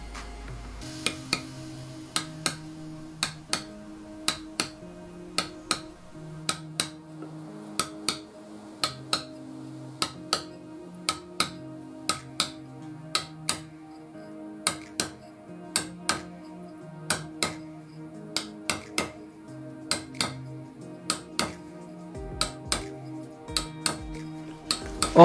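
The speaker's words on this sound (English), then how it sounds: "Firstly, score the line with a few sharp taps." Steel chisel struck with sharp taps to score a line in Maltese limestone, a fish relief carving: evenly spaced clicks in small bursts repeat steadily and close over a quiet background hum, no voices.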